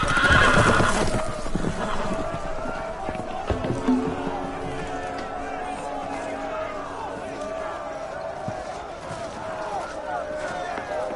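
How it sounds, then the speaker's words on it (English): Loose horses whinny loudly at the start, then hooves pound in a steady gallop with more neighing over a busy, noisy background. "The horses! They're loose!"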